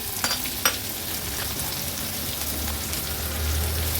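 Finely chopped onion frying in oil with curry leaves and a pinch of asafoetida, a steady close sizzle with a couple of sharp clinks early on, no voices.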